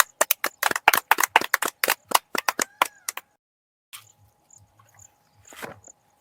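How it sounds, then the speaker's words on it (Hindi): An audience clapping at a comedy show, sharp separate claps in a quick uneven patter for about three seconds, then silence broken by faint scattered sounds. "ताली बजाइए सब लोग।"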